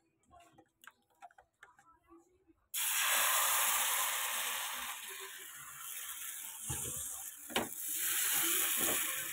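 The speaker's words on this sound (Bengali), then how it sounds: "তেল অল্প অল্প করে দিয়ে ব্যাটারটা এবার দিয়ে দেবো।" Batter poured into a pan with a little hot oil for a coconut-filled rice-flour pancake bursts into loud, steady sizzling and hissing after a few quiet taps, with occasional crackles.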